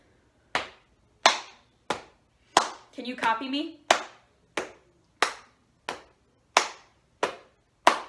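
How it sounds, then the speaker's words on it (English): Crisp, evenly spaced slaps of hands patting legs and clapping in a steady ostinato during a children's music lesson, close and dry, with a short spoken phrase interrupting the beat midway. "we are going to pat our legs and clap"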